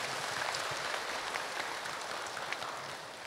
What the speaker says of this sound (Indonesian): Boleh tepuk tangan dong ya.